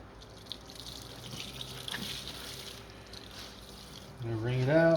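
A tie-dye shirt is rinsed under running water to wash out the suds, giving a steady splashing gush, and a voice cuts in near the end.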